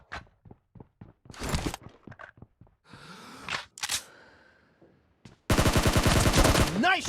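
Gunfire rings out during a video game shootout: scattered sharp single shots and short bursts, then a loud sustained stretch of rapid automatic fire near the end, with game voice callouts mixed in.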